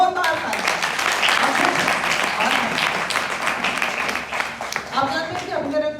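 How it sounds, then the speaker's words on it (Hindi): An audience at a theatre festival claps loudly and continuously, dense and sustained, while a speaker's voice carries over the applause. "मनोज बंसल जी के लिए भी जोरदार तालियां।"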